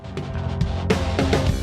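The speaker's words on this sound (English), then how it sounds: "I take out the hi-hats and just do the accents on the toms instead of the hi-hat and the ride bell" Drum pattern for a song bridge with accents moved from the hi-hat and ride bell onto the toms: a short, busy run of tom and kick hits with some cymbal wash, close and steady, no talking.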